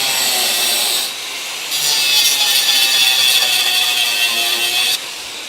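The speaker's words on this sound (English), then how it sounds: "So I'm just going to grind the spot weld." A grinder cuts into a spot weld on the inner rocker of a crew cab Dodge Coronet car body, giving a loud, steady abrasive whine that eases briefly, then runs on continuously before dropping off near the end.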